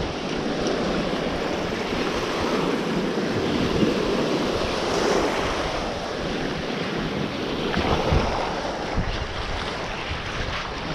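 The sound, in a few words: ocean waves breaking on the beach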